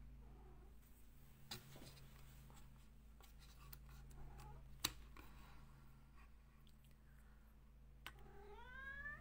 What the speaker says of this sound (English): We have a little Felix cat here helping us out too.